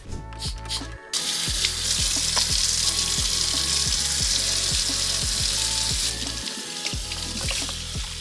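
A kitchen tap runs steadily while dishes are scrubbed with dollar-store dish soap, a loud continuous splash of water with clinks and rubbing in the sink and no talking.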